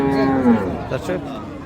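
A cow moos loudly close by at a cattle market in Raniganj, Dinajpur, Bangladesh, one long low drawn-out call with faint murmur in the background.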